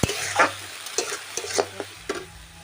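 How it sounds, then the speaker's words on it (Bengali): Tomato paste fries in a pan for chicken curry, a soft sizzle broken by several distinct scrapes and knocks of a spoon as it is stirred, no talking. "এবারে আমি এখানে দেবো টমেটো বাটাটা।"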